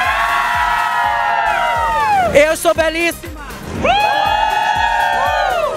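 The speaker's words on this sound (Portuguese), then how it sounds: "E eu não paguei nada pra eles gritarem, acredite." Fans queuing for a concert at Allianz Parque in São Paulo scream and cheer in loud, high-pitched waves from a crowd of excited voices, with a short spoken phrase breaking in midway.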